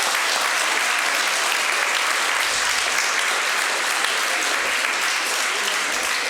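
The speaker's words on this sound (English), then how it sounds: "So can you give them a big clap," A room full of people clapping at an awards ceremony, dense and even applause that holds steady throughout with no voices rising above it.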